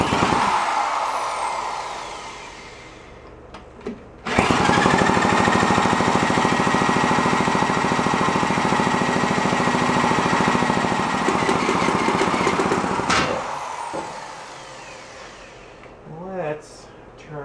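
A 1965 Vespa scooter engine runs with the choke on, a loud steady buzzing roar that kicks in after a few seconds of quieter idling, holds for about nine seconds, then drops back to a low idle.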